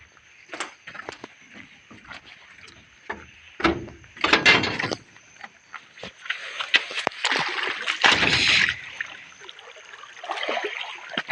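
Floodwater flows in with sloshing and splashing, uneven surges of watery noise building and fading over steady background rush, while someone talks now and then nearby.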